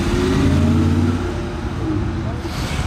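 A Ferrari sports car's engine revs loudly past on a Monaco street, a dense close roar that sinks in pitch as it goes by.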